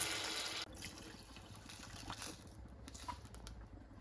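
Two to two and a half cups of water poured over sugar in a pan for syrup, a quiet splashing trickle that starts fuller, then thins into soft running and dripping sounds, faint and close with no voices.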